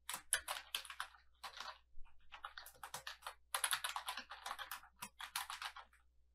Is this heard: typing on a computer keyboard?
yes